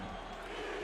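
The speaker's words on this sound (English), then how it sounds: "You hear the crowd in the background." A crowd roars in the background at a football game, a continuous broad wash of cheering and noise that stays steady and fairly distant throughout.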